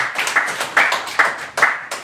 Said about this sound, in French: Est-ce qu'on peut acclamer pour le Seigneur pour le passage?